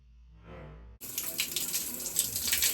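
Shower water running during plumbing work at low pressure, starting abruptly after a short muffled stretch and then pouring as a steady, close, bright hiss and splash.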